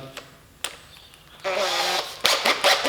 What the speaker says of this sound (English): I'm just gonna drill the top of these out